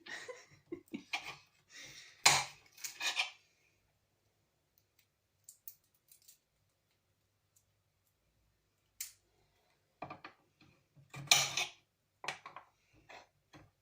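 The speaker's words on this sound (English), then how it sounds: "I'm so sorry for the noise of the cutting." A knife cutting garlic taps sharply on a hard glass board in short clusters of clicks, separated by long quiet pauses.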